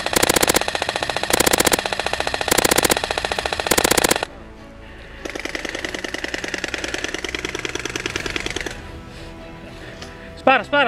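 An airsoft MK12 rifle fires four quick, loud full-auto bursts during a game. The bursts are followed by a stretch of rapid mechanical buzzing, and voices talk nearby.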